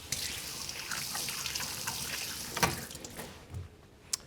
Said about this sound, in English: Let me just give my hand a quick wash.